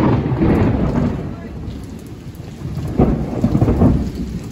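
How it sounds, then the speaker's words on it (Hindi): Heavy rain pours with low rumbling thunder, a dense hiss rising and swelling in waves, loud and close, with no clear speech over it. "हमारे आते ही इधर बारिश आ गई"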